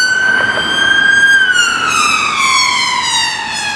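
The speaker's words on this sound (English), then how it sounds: "2 ambulances already." An ambulance siren wails in a street on a match day in Stratford, a loud, clear tone that holds steady and then bends lower as the vehicle passes close by.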